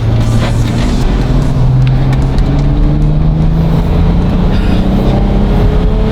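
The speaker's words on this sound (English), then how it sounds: "What are we driving, Tim? Van." A van drives along with a loud, steady engine drone and road rumble from inside the cabin, the pitch rising gently as it accelerates, continuous throughout.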